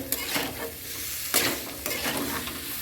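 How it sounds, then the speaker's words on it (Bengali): Vegetables sautéing with meat masala and sugar in a pan, a steady sizzle broken by a few scraping stirs, close and moderately loud with no talking. "একটু মিট মশলা দেবো, দিয়ে ভালো করে এটা কষিয়ে নেবো।"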